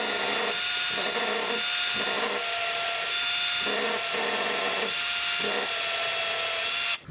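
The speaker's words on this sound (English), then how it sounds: "I'm gonna tap drill it." An electric drill runs loudly and continuously, its pitch dipping and rising in a few pulses as it tap-drills into a metal Subaru AVCS exhaust cam gear.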